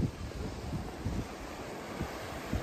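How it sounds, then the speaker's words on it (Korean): Ocean surf breaking along a coast beside a seaside pavilion, low rumbling waves washing in at intervals under steady wind buffeting the microphone, moderately quiet and with no voices. "파도"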